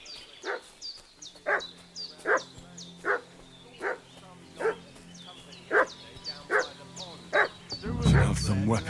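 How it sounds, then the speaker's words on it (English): A dog in Kingdom Come: Deliverance II barks repeatedly at a steady pace, each yelp sharp and mid-distance, with a low droning game soundtrack underneath and a louder rustling swell at the end. "What's that dog making such a fuss about?"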